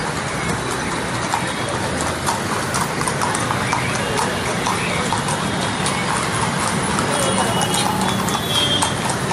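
Hooves of mounted police horses clip-clop steadily along a city road during a flag march closing a market in Hyderabad, with busy street noise and traffic around them and someone talking over the scene.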